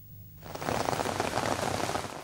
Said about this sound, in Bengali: সকালে স্বস্তির বৃষ্টি নামে চট্টগ্রামে।